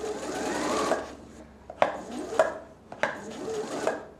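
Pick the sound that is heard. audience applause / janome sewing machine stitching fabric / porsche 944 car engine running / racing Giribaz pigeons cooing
janome sewing machine stitching fabric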